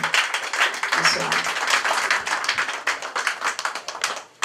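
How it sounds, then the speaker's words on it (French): Audience applause at a Valentine's party for the founder of a sisters' association, a busy patter of many hands clapping at moderate distance, mixed with murmuring voices and fading toward the end. "s'il vous plaît, applaudissez pour Madame Elvia"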